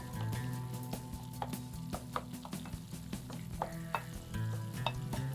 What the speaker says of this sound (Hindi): सिर्फ मैं टमाटरों को इसके साथ मिक्स एंड मैच कर रही हूँ।